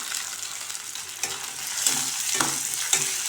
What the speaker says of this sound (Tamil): இது வெங்காயத்தை நம்ம நல்லா வதக்கி விட்டுக்கிடணும்.